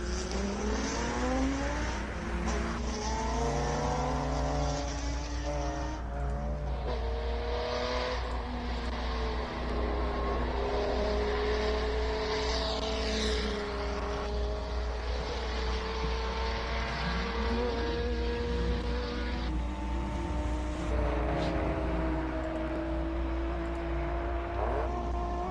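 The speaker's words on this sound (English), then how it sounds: "Just listen to this Datsun." A classic Datsun climbs the Simola hillclimb, its engine rising and falling through gear changes in a steady, continuous roar, with revs sweeping up repeatedly against constant background noise.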